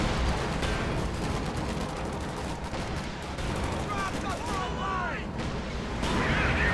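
A video game tank battle roars with continuous gunfire and explosive blasts, with Rakettenwerfer rocket fire among the dense layered booms and rattles, and faint whistling streaks near the end.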